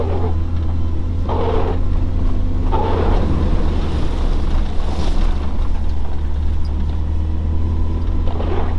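Truck driving fast through the Drysdale River on the Gibb River Road, water splashing and surging against the vehicle over a loud, steady engine drone and rushing wind noise.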